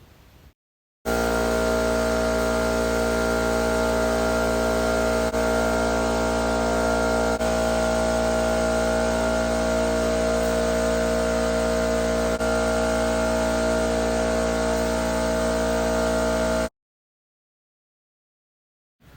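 A spray gun applies clear coat to car parts in a long, steady, loud hiss of compressed air, running unbroken for about fifteen seconds before cutting off abruptly.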